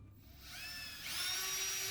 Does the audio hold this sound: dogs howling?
no